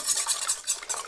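Two eggs beaten briskly in a salad bowl for sweet Polish potato pancakes, a fast steady scraping whisk close up with no talking.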